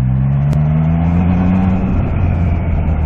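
A Triumph Trident 660 motorcycle engine in third gear near 2000 RPM, its steady low drone rising smoothly in pitch as the throttle opens, loud and close with no talk.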